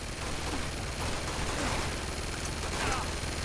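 Dense gunfire in Uncharted: Among Thieves, a steady wash of shots and bursts from several sides at a monastery, loud and continuous, with a voice talking faintly underneath.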